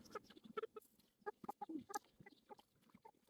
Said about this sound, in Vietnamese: Còn một con gà đây thật.